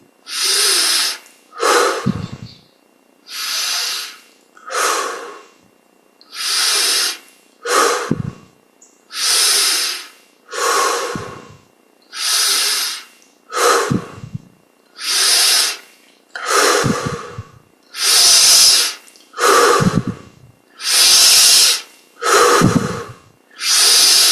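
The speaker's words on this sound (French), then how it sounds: "On prend nos 20 respirations profondes." Slow, deep breaths taken during a yoga meditation session, each long loud inhale and exhale close and clear, repeating steadily about a dozen times with short pauses between, no talking.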